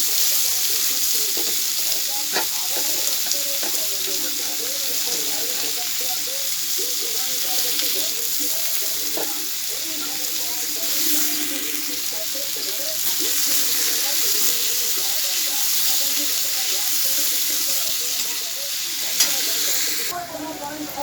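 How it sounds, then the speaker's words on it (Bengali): Onions fry in oil in a wok, a continuous close sizzle with bubbling crackle and occasional stirring scrapes, no talking. "পেঁয়াজ এখানে ভাজা হচ্ছে"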